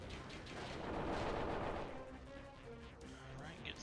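Booming cannon fire from Kirby and the Forgotten Land rumbles in a broad, loud burst that swells and fades, followed by scattered smaller game effects and clatter.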